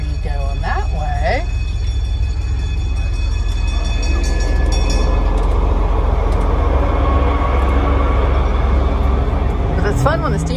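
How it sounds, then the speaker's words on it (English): A steam train passes near a cycle-taxi ride in Frankfurt, making a loud, continuous rumble and clatter for the whole stretch. Higher whines and squeals rise at the start and end. "It usually means the steam train is coming down through here."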